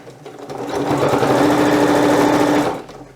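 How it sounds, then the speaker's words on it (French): A sewing machine stitches fabric for a small soap pouch, one continuous loud mechanical run of about two seconds that starts and stops cleanly. "Il n'y a pas besoin d'avoir une machine hyper sophistiquée de triple entraînement pour coudre ces matières-là."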